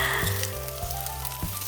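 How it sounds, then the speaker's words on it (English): Chopped onions hit a hot pan of Hawaiian fried rice, giving a steady close sizzle with a few soft knocks or stirs, and no talking. "add in your chopped onions, or cut onions in there if you're lazy like me."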